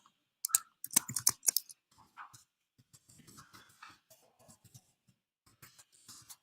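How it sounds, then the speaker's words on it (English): Quick bursts of keyboard typing during a live stream, with clustered clicks near the start and lighter, sparser tapping afterward, heard close and alone with no one talking. "I can't type and do anything else at the same time."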